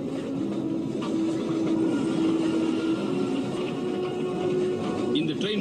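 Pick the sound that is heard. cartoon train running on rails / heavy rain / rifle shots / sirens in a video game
cartoon train running on rails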